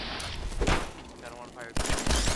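Weapon fire in Fallout 4, loud bursts of rapid gunfire in two clusters with a brief lull between, while people talk and exclaim over it.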